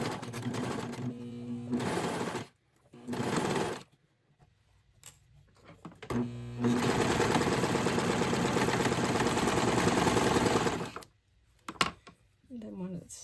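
A serger overlocks a seam on doll-clothes fabric for an 18-inch doll's shorts and shirt, running in several steady whirring bursts of a few seconds each, with a voice talking in the pauses between runs.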